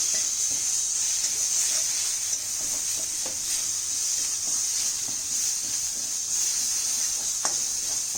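Steady close frying hiss as chicken vada filling with ginger and garlic cooks in a pan, a constant bright sizzle with faint occasional stirring scrapes and no voices.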